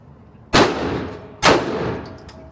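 A handgun fired twice at a shooting range, two loud close reports about a second apart, each leaving a ringing decay, no voices.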